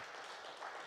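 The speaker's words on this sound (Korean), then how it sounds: "우리 잠도 깰 겸 박수 한번 그들에게 보내드리겠습니다" A church congregation applauds together in a dense, steady wash of clapping, heard at a moderate distance with no break.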